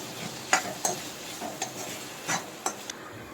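Eggplant pieces coated in chili powder fry with a soft sizzle while a spoon stirs and taps against the pan in scattered knocks, close but fairly quiet, with no talking.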